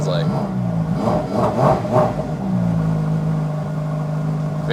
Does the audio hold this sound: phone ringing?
no